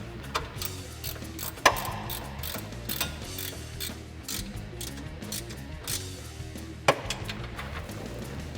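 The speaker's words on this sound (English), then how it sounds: "I'm gonna take my 15mm on my ratchet" A ratchet with a 15mm socket tightens sway bar bolts on a 2008-2022 Dodge Challenger during an Eibach anti-roll bar install, clicking steadily and rapidly up close, with two sharper knocks mixed in.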